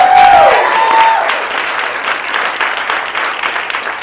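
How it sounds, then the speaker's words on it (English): Loud, sustained applause from a comedy club audience fills the room, with dense clapping and a brief high tone at the start before the clapping continues steadily. "let's get another round of applause."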